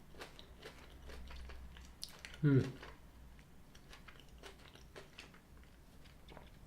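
A single crunchy bite into a Ritter Sport Cornflakes chocolate bar, then quiet chewing, close and faint, with a brief voice at the start.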